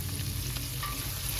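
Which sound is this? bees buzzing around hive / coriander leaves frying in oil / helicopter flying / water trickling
coriander leaves frying in oil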